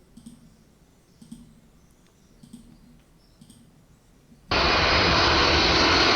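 A sudden loud, steady roar of an ANA aircraft's engine cuts in after a few seconds of faint clicks and quiet background, then holds at full strength.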